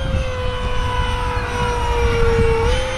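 An F-117 RC brushless jet flies past with a steady, fairly loud high whine whose pitch sags slightly as it passes, with a rough airy rumble beneath.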